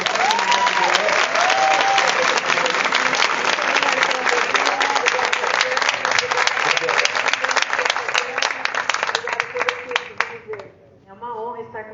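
Audience applause fills the room after a dance performance at a railway history gathering, dense sustained clapping that tapers off near the end, with a voice speaking over the opening and again as it fades.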